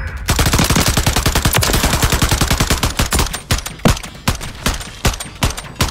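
Automatic shotgun blasting in a video game, a fast, loud, sustained burst of heavy shots that later breaks into slower, spaced single blasts, close and alone.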